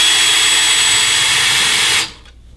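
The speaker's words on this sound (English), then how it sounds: "Let me go ahead and put those in, drive those through there" A power drill drives screws while a reversible pilot seat is fitted on a boat, a loud steady high whine that cuts off abruptly near the end.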